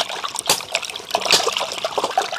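Coconut water trickles and splashes steadily as a coconut is washed off with it outdoors: a close, continuous dribbling with small splatters and no talking.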